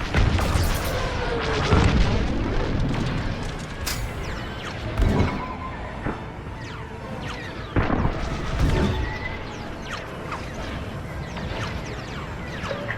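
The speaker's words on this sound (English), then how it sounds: "Taking enemy fire." Enemy fire striking a starfighter in Star Wars Squadrons, with repeated booming impacts and crashing blasts over a dense, continuous roar of engines and battle.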